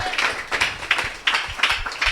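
A church congregation claps in quick, uneven bursts of applause, loud and close, giving thanks to God.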